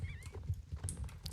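Champion, a large horse in the online riding game Star Stable Online, gallops with rapid, rhythmic hoof thuds close by, a short whinny-like tone early on and brief higher clatters over the beat.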